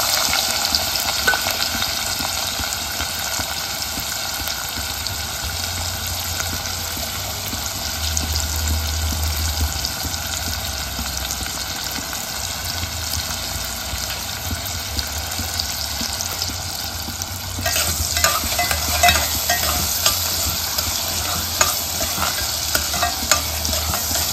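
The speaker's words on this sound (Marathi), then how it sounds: "त्याच्यानंतर आपण याच्यामध्ये कांदा घालू।" Onion frying and being stirred in a pan, a continuous close sizzle with scraping stir sounds that grow busier in the last few seconds.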